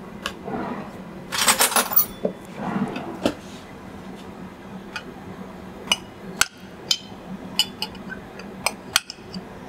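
A knife cuts tofu into chunks on a board in a home kitchen, with irregular taps and knocks and a brief clattery burst early on, then scattered sharp clicks, at moderate level with no talking.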